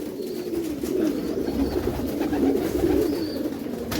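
Pigeons coo steadily in a loft, their low rolling calls overlapping continuously under a noisy, rustling background.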